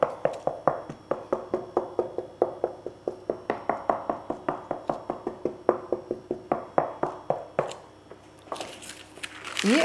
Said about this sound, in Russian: Теперь мы прокалываем вилкой.